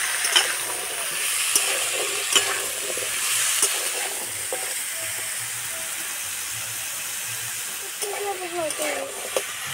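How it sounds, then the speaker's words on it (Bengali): Vegetables sizzle and hiss in a hot pan with occasional stirring and scraping, a steady close frying sound with faint background voices and clinks near the end. "সবজিগুলো ভালো করে ভেজে নেব।"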